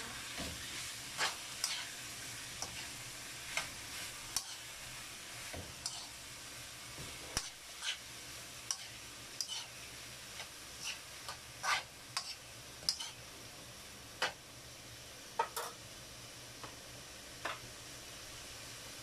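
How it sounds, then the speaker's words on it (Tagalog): Bean sprouts and tofu are stirred in a home kitchen pan while sautéing, giving a quiet, steady sizzle broken by frequent sharp ticks and scrapes of the utensil against the pan. "So, next is toge. Mix natin siya."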